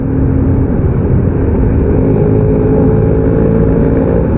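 Exhaust of Om Yetno's car droning loud and close, a thick continuous engine rumble that stays fairly even, heard from inside or near the moving vehicle with no talk.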